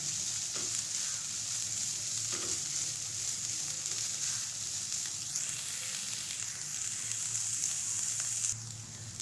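About 200 grams of chicken cooks in a pan for a chicken bun filling, producing a continuous, even sizzle with a soft low hum beneath and a few faint scrapes of stirring, holding steady before easing slightly at the close.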